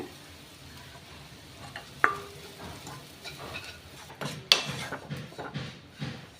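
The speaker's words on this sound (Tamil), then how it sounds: "இந்த மசால் போட்டோன்னா ஒரு நிமிஷம் நல்லா அது கூட கலந்து விட்டுருங்க" Masala powder being stirred into onions and bitter gourd frying in a pan: a soft steady sizzle with scraping spoon strokes and a couple of sharp metallic taps against the pan, close and fairly quiet, no talk.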